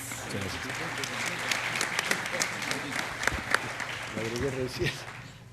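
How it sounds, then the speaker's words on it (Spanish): Applause from a congress audience at a provincial economics conference in Argentina, steady clapping through the whole stretch with a few sharper claps standing out, while a voice speaks over it at moments. "Un aplauso, Luis."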